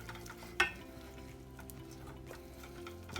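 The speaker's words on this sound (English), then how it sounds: "I'm going to stir this in quickly, turn it on low heat" Cream being stirred quickly in a pan on low heat, a soft steady scraping and faint simmer with one sharp clink near the start, close and fairly quiet.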